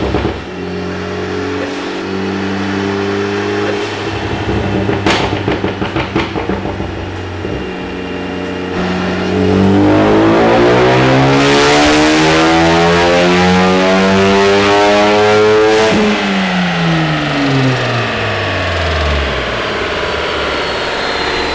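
Car with a tune and Cobb intake on a dyno, idling loudly then winding through a long rising rev run to a high pitch before easing back down, close and powerful, no voices.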